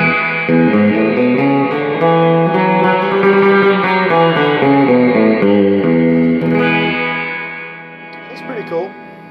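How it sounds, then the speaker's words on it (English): Electric guitar through an amp with a Megatone reverb tank, sustained chords ringing with a wet, washy reverb tail and slight distortion, loud and close, fading out at the end. "let's hear a little bit of reverb off the amp as well and kind of mix that together."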